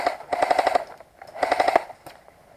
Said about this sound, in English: I've got shots coming in this way